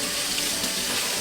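Tap water runs steadily over potted Cattleya orchids, a close, continuous splashing stream lasting just over a second with no talking.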